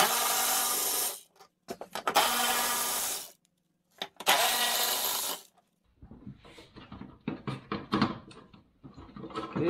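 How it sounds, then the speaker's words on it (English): Bolts being undone on a Land Cruiser 3FE engine, with loud bursts of a powered ratchet or impact tool whirring in stretches, then closer clicks and metallic rattling as the bolts come free. "I'm gonna undo these bolts here."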